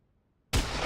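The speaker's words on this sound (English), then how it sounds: "the sound of an eardrum popping." Eardrum-popping sound effect in the Endless Overhaul video game: silence broken by a sudden loud, dense burst of noise that cuts in sharply and sustains to the end.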